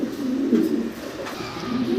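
Pigeons coo softly and continuously nearby, low throaty murmurs overlapping without pause.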